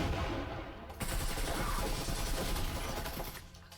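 Rapid automatic gunfire from a tournament finals match of a video game, a dense continuous rattle of shots lasting nearly the whole moment, fairly loud and without talk.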